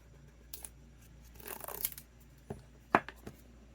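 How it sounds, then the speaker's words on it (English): A sticker is peeled off the packaging of a Kospet Tank T3 Ultra rugged smartwatch: a quiet, close rasp of peeling, followed by a few sharp crinkles and taps of paper and plastic. "we have the sticker here. Let's remove this."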